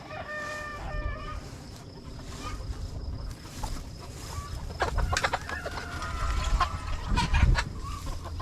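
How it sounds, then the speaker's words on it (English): Broiler chickens cluck and call close by, with a rooster attempting a crow among the flock chatter. "Here's the other half of the broilers."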